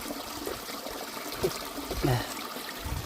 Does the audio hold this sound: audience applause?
no